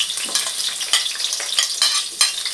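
Garlic sizzling in hot oil with sesame oil for Filipino pancit, a steady bright crackle with rhythmic stirring scrapes swelling every half second or so, close and fairly loud.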